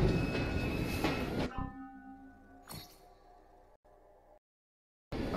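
A train in Assassin's Creed Syndicate rumbles loudly with a horn-like tone before dropping away, leaving faint tonal hums, a short noisy swell and then near silence before the roar returns.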